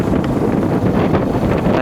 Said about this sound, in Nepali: लास्टै हावा चल्छ त माथि त ओहो